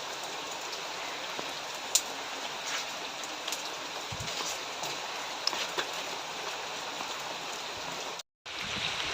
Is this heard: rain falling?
yes